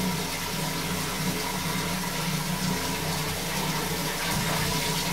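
Running water pours steadily while a baby is rinsed during a bath at home, a close, dense, continuous rush with no talking over it.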